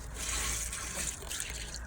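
A pond pump pushes water into a homemade upward-flow gravel filter, a steady close rushing and splashing flow that stays even throughout, with no talk.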